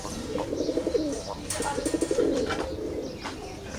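Pigeons cooing in soft, repeated low rolling calls close by, with faint chirps and background movement; the birds include a lavender hen.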